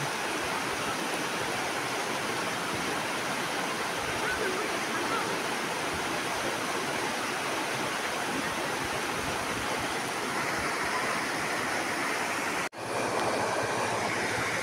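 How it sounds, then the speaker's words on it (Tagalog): A mountain stream in Maragusan rushes steadily and loudly, forming a dense, unbroken wash of flowing water that is close by and continuous, with only a brief dip near the end. "tingog nila maminaw daw sa tingog daw sa sapa, sa tingog sa tubig, kay mawala daw ang imong stress"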